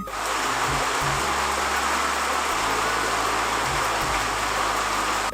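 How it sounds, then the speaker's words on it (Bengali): Heavy rain falls on a tin-roofed house on a cold day, a dense, steady roar with no letup, close and loud, and low rumbles shifting underneath. "আজকে কিন্তু প্রচণ্ড বৃষ্টি হচ্ছে"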